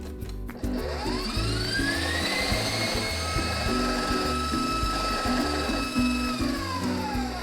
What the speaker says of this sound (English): we're going to whisk our egg whites to soft peak stage